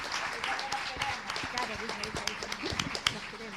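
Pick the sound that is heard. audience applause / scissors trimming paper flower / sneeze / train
audience applause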